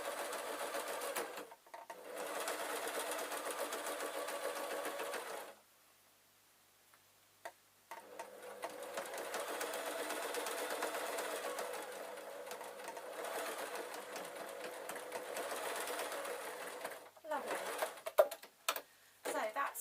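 Sewing machine stitching a cushion cover panel, a steady fast whirring run that stops briefly near the middle, then resumes with short bursts toward the end, close and fairly loud.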